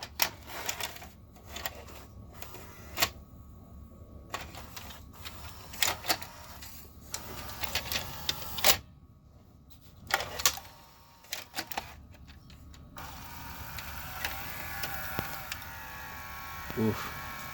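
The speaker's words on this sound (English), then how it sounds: "It tried loading the tape, and the take-up reel worked, but I could hear a motor struggling." A strained mechanical whirring and clicking from a Mitsubishi HS-U110 VCR motor labouring to load a tape, with irregular clunks and buzzing bursts close by.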